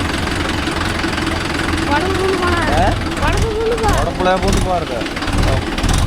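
A Mahindra Yuvo Tech Plus 585 4WD tractor drives with a steady, loud engine rumble into a wooded field. Someone talks over the engine throughout.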